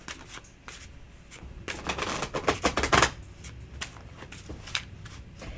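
A deck of Lenormand cards is shuffled at close range, a run of quick riffling flutters that grows louder midway and then trails into lighter, scattered card taps.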